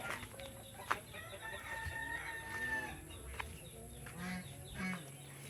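Turkeys and roosters on a farm, a rooster crowing and birds clucking faintly at a distance over low background noise.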